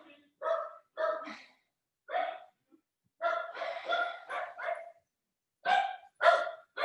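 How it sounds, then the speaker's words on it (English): A dog barks indoors at home in a loud series of short, sharp barks, some doubled or clustered, separated by brief silences. "hopefully you don't have dogs barking in your home"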